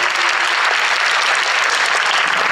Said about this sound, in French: On applaudit encore le club de tir